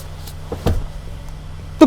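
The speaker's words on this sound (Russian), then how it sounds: "когда у нас идет нагрузка на сам усилитель, тогда проявляются эти мерзкие щелчки" A 2023 Hyundai Santa Fe's power steering gives two short, dull clicks while the wheel is turned under load, heard close up against a quiet low hum inside the car.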